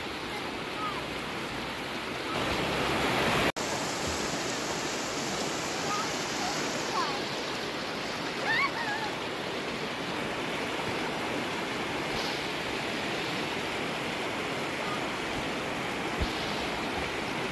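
The El Paraiso River in Mindanao, Philippines rushes steadily as a loud broadband wash of flowing water, continuous and close, with a brief sharp click near the start and faint background sounds over it.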